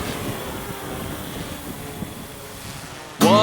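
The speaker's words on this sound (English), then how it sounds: "Pretty windy out." Strong gusting wind buffets the microphone outdoors beside a Historic Route 66 billboard in California, a steady low roar for about three seconds before a sudden louder burst at the end.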